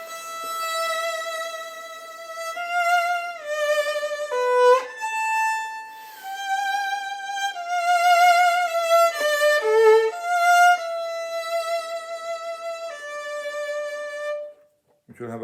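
Sustained notes played with a faster, freer vibrato during a vibrato lesson, each pitch wavering quickly and evenly as the melody moves through several held tones, clear and close with no talking.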